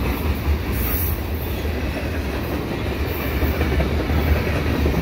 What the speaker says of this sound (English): there goes that train heading eastbound towards the yard